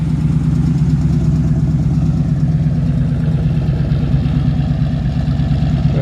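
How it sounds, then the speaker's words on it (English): A 1966 Chevy C-10 Fleetside pickup truck engine idles smoothly and slightly fast, a loud, close, even low rumble with a steady pulse and no pauses. "Probably could stand to turn the idle down just a little."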